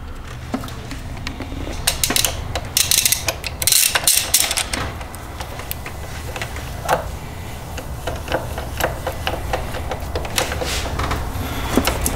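A bolt is tightened to pull the oil cooler lines into place on a BMW 335i N54 engine during an oil filter housing leak repair, heard as close metallic ratcheting clicks and scrapes in uneven bursts, with no talk.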